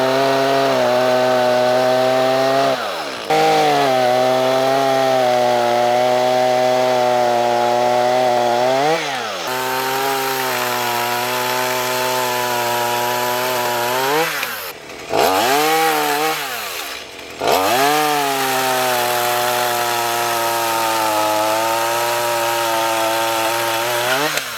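A Stihl chainsaw bucks a felled log in 10 to 12 inch cuts, roaring loud and close with a steady high whine under load and several brief dips where the engine revs drop and recover between cuts.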